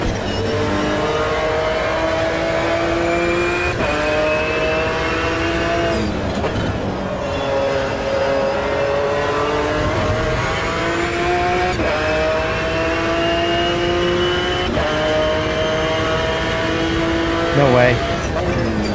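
A race car in Automobilista 2, driven with a Simagic Alpha EVO Pro wheelbase, revs and engine-brakes through repeated gear changes, its loud, steady engine whine rising and falling close up for the whole stretch, with a voice talking over it.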